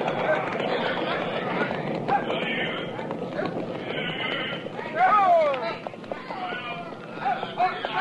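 Radio-drama horses in a Western cattle drive: hooves clop beneath shouted voices, and a horse whinnies loudly midway, with another brief neigh near the end, all mixed among a herd's commotion.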